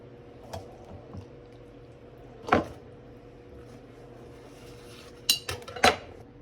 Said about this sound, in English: we're gonna go ahead and just scoop out our cheese curds